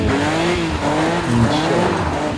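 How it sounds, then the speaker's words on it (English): BMW E36 M3 drift car turning in on a single throttle blip during tandem drifting at a track event, a loud continuous engine drone with tire squeal and skidding, no talk. "love the sound of the entry with the single throttle"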